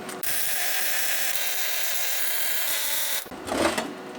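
Welding a plasma-cut metal art piece gives a steady, loud buzzing crackle for about three seconds, then breaks off into a brief scraping, clattering tail, with no talk.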